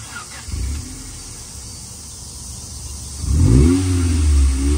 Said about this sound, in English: Let me hear that exhaust. That MUGEN exhaust.